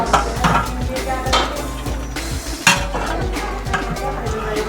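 Nihari masala is stirred and roasted in a big pot at a Delhi street-food stall, with loud, close, rhythmic scraping and sizzling strokes of a ladle against the metal.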